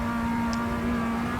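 A race car engine in the Assetto Corsa racing game holds a steady, loud high-revving drone with no shifts, continuous and close throughout.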